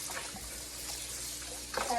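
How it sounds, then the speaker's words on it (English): Tap water runs over washed flour dough being rinsed for seitan, a soft, steady trickle and splash close by, with faint background murmur and a slightly louder splash at the end. "as the water is running on it"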